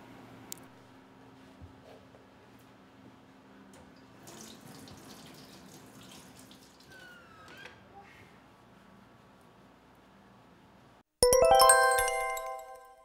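A running tap at a sink in a training kitchen, steady soft water flow with faint clatter and hum, ending in a loud bright chime tone near the end.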